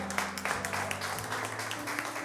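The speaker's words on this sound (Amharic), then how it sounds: "ሃሌሉያ! አጨብጭቡ ለዚህ።" Church congregation clapping in a steady, continuous round of applause that fills the whole moment, with a low sustained tone underneath and no clear talking.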